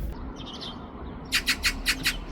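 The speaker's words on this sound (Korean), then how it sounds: "까치가 반겨주네요" A magpie calls outside a warehouse in a semi-rural setting, giving five sharp, evenly spaced chattering squawks near the end, loud and close over a low ambient hum, after a few faint earlier calls.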